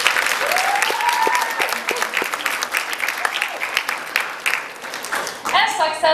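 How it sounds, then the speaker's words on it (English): Loud sustained applause from a crowd at a university graduation ceremony, steady clapping throughout with a voice briefly heard over it. "Please give them a huge applause too."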